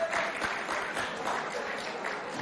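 A school hall crowd claps for a departing contestant at a provincial competition, dense even applause held throughout at moderate loudness, with a faint voice or shout mixed in.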